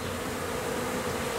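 Honeybees buzzing around a new hive after swarming, a faint steady drone of many wings, continuous through the short moment.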